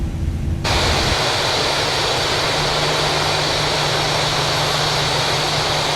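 An Air Canada A320neo in Microsoft Flight Simulator sits on the runway with its jet engines giving a steady broadband roar and a constant hum. The sound swells at the start and then holds level without a break.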